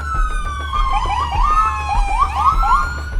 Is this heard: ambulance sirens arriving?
yes